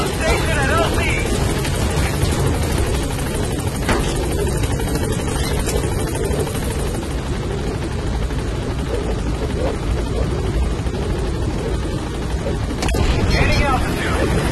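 The Pequod helicopter landing in Metal Gear Solid V, a loud continuous rotor thrum and engine drone, close and steady, with a voice speaking over it.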